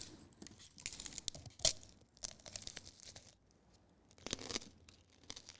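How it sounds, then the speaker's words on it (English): A candied grape bitten into, giving a sharp crunch followed by softer crackling and chewing. The sounds are close and fairly faint, with no speech. "Do you hear the crunch?"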